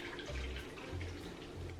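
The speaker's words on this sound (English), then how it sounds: "going to add 2 cups of water" Two cups of water are poured into a bowl for soaking apple segments, a faint, brief splashing trickle with soft low gurgles.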